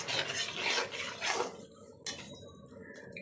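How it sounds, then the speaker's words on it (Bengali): Potatoes frying and being stirred in a pan, with scraping and rubbing of a utensil against the pan and a soft background sizzle, close and steady, no talk. "এরপর আমি আলুগুলো সুন্দর করে লাল লাল করে ভাজবো।"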